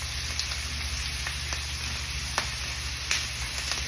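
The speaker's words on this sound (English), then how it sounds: "So we've got our onion in there, and I'm just going to let those start sauteing" Chopped onion starts sautéing in butter in a pan for New Orleans hamburgers, making a soft, steady sizzle with a few faint pops and ticks.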